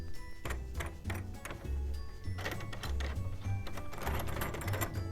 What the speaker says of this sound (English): Now we're going to tighten up the lug screws.